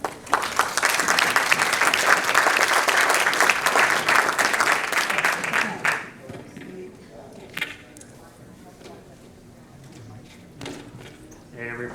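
Audience applause for a regional airline industry panel, a dense sustained clapping crowd for about six seconds that then fades, followed by quieter room sounds and a voice.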